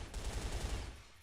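Rapid automatic rifle fire from an HK-type gun in a shooting video game, a dense burst of close, loud shots over about a second before cutting off.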